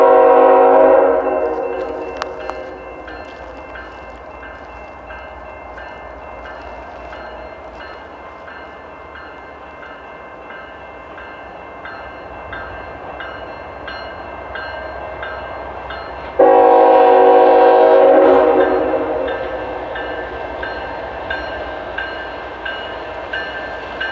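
A CN ballast train on the Caramat subdivision sounds its air horn in two long, loud chords with a steady low rail rumble between them, the horn close and strong at the start and again later, with no talking.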